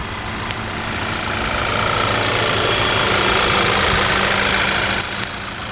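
A 2012 Audi TT 2.0T quattro's turbocharged 2.0-litre four-cylinder idles steadily nearby with its hood open. The engine gives a continuous even hum with a faint ticking texture and no talking over it.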